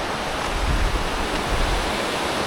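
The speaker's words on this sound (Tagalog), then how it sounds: "Lakas pala ng alon." A broad, roaring wash of surf close by, steady and loud, with low rumbling swells rising and falling and no voices.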